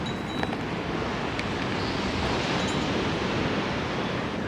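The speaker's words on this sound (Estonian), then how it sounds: "Ja suured lained on ka." Large ocean waves break and wash along the surf at Malibu beach, a continuous broad roar of surf heard close and steady, with wind buffeting the microphone and no voices.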